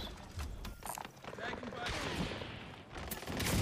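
Rapid gunfire bursts and sharp shots in Call of Duty Warzone, fairly faint and cluttered, with overlapping game noise and a voice under the shooting.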